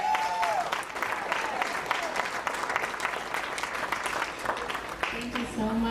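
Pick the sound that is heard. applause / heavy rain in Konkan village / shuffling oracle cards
applause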